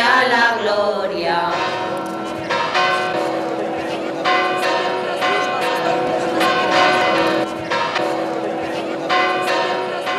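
Church bells peal at the close of a Corpus Christi Mass in Nava de Arévalo, Spain: loud, repeated clanging strikes over a ringing, sustained tone, continuing throughout.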